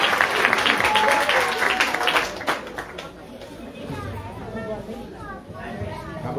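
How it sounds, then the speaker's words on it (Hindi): Audience applause at a Hindu Bhagwat katha religious gathering, loud clapping at first that fades after a few seconds into crowd murmur and chatter. "जोरदार तालियां, हरि बोल।"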